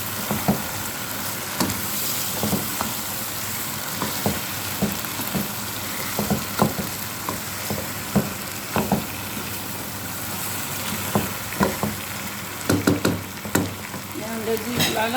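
Chopped vegetables frying in a pan for a rice-and-meat dish give a steady close sizzle, with scraping stirs and clicks of a utensil against the pan recurring throughout.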